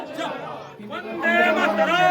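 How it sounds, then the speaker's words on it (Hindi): A crowd gathered at a roadside shop during an election campaign in Durgapur, where a candidate fries aloo chop; several voices chatter close by in a brief, busy murmur. "देखते ही देखते यहां लोगों की भारी भीड़ जमा हो गई"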